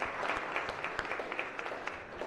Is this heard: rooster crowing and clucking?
no